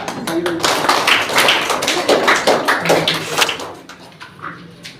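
Applause breaks out at a school Teacher's Day ceremony honouring staff with gifts, a dense patter of many hands clapping for a few seconds before thinning out, fairly close.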